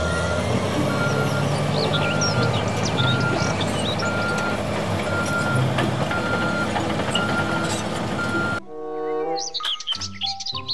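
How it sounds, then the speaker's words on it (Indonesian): Toy bulldozer sounding a steady, regular electronic reversing beep over a busy noisy background with chirping, then a brief quieter stretch of scattered tones near the end. "Mobil bulldozer."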